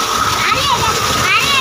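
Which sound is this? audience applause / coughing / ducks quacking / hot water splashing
hot water splashing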